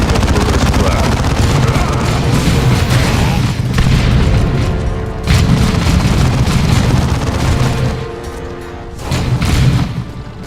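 A grenade blows up in Warhammer 40,000: Dawn of War II, a heavy, loud boom in a dense din of battle, with thuds and crackling debris.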